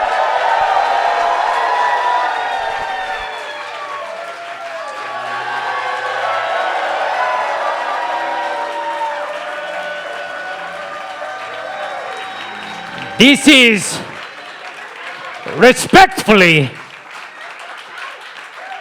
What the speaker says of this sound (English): the worst entrance applause I have ever heard in my fucking life